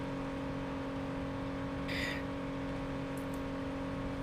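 Fast car driving in Saints Row: a steady, even engine hum at moderate level, with a brief brighter whoosh near the middle and small clicks toward the end.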